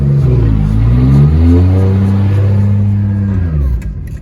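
A big-turbo Lexus GS300 accelerates hard through the gears, its loud, close engine note climbing in pitch, dipping at a shift, then climbing again before cutting off abruptly near the end.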